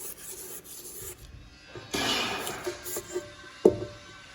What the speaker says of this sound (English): I'm going to scrape the sides again to make sure we get all of that off of there